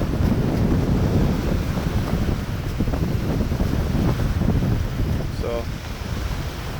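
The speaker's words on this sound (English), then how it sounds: "It's too windy." Strong wind buffeting a microphone on a beach during a storm, a constant loud rumbling roar with surf-like wash and faint voices beneath it.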